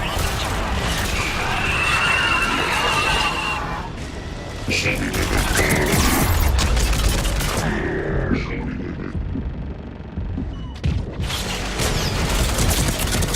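Missile strikes hit during a Mass Effect 3 battle on Thessia: a series of heavy booming blasts and crashes with clattering mechanical noise, while voices talk over the action.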